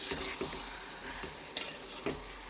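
Vegetable pieces cook in a pan with a quiet, low sizzle, interrupted by several soft scrapes and clinks of a spoon turning them, with no voices.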